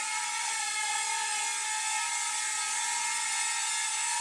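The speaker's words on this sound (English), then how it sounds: "Pivoting the drone, I should say." SIMREX X300C drone motors whining steadily as the drone pivots, a continuous high-pitched buzzing whir with no breaks, close and fairly loud.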